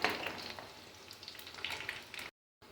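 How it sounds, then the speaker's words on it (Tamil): Small rice-flour bondas deep-frying in hot oil give a steady, close crackling sizzle with no talk, cutting off abruptly near the end before a brief return. "நான் இன்னும் இருக்கிற மாவெல்லாம் இதே மாதிரி பொரிச்சு எடுக்க போகிறேன்"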